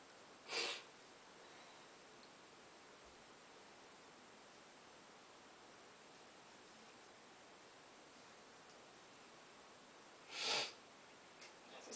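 Two short, sharp nasal sniffs, one near the start and one near the end, separated by a long stretch of quiet hiss.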